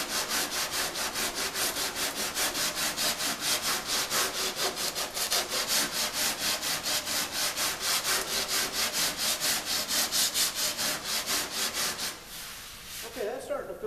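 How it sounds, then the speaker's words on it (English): A sanding block worked by hand across an auto body panel in crisscross strokes, giving a loud, close, rhythmic rasping scrub of about two strokes per second that keeps a steady pace before trailing off at the end. "We'll be sure to cross sand to keep from falling in contouring."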